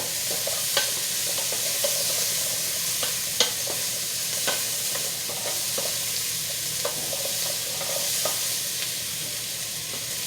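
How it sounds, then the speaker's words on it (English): Onions frying for vegan stock hiss steadily in a pan while a utensil stirs them, scraping and tapping in irregular strokes over a constant sizzle, close up with no talking. "That's why I'm constantly stirring it."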